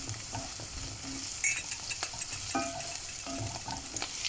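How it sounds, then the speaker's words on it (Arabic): Garlic sautés in hot oil in a pan during pasta sauce preparation, a steady close sizzle with occasional stirring scrapes and clinks running through the whole stretch. "نشوح كله مع بعضه"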